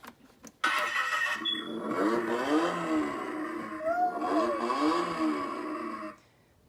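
A Costzon ride-on toy race car switches on with a click and plays a revving engine sound effect that rises and falls for several seconds before cutting off, close and steady.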